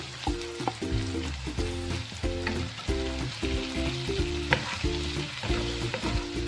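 Okra and tomatoes frying in a pan for a bhindi fry, a steady close sizzle of oil with rhythmic stirring and clinking of a spoon against the pan throughout.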